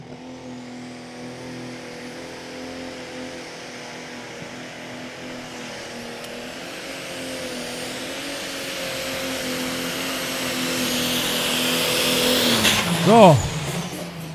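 Pro stock pulling tractor at a 2023 European Championship pull in Brande, its engine roaring steadily and building louder through a full pull, peaking near the end, with a voice faintly under it.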